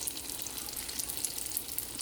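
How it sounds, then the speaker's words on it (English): Spring rolls frying in hot vegetable oil, a continuous close crackling sizzle with fine popping throughout and no voices. "I'm using vegetable oil. So I'm just going to fry them."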